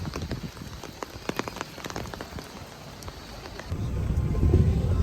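Rain falls during a stormy getaway, a constant hiss of drops on surfaces with scattered sharper drip taps, then a deeper rumble swells near the end like distant thunder or heavier downpour.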